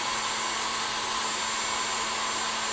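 An electric mixer whisks at full speed while meringue is whipped for a baked Alaska, giving a loud, steady motor whine that runs unbroken throughout with no talk.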